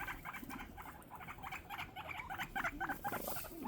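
Guinea pigs shuffle and rustle through hay, with a rapid series of faint, high chattering squeaks and soft nipping sounds close by at low volume.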